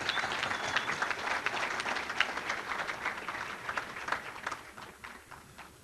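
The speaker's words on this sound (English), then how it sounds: "I'd like to give John a round of applause for the work he's doing." An audience at an awards event applauds steadily, a dense patter of many clapping hands heard at moderate distance for several seconds without speech.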